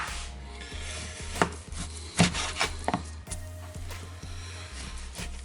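A knife cuts fat off pork on a board. Several uneven chopping and scraping strokes land close by over a low steady hum.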